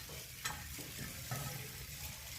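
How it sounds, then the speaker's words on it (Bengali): Cut okra frying in lightly heated oil, a soft, steady, fairly faint sizzle with occasional light stirring clicks. "এবার আমি আস্তে আস্তে ভেন্ডিটি ভেজে নেব।"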